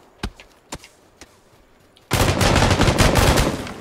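Gunfire in the battle game PUBG: three isolated single shots, then a sudden dense, loud burst of rapid automatic fire running continuously to the end.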